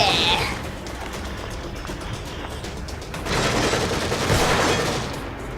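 Gunfire in The Evil Within DLC The Consequence, with a steady stream of shots and crackling bursts that swell louder near the end, heard with voices in the background.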